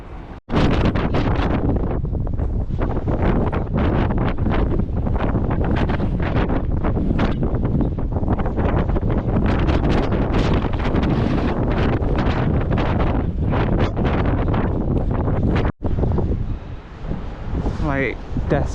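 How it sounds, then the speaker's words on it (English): Strong wind buffets the microphone outdoors at dawn during an ultramarathon run, a loud, continuous roaring rumble that fills the whole stretch, briefly dropping out near the end before gusting again. "because it's really windy"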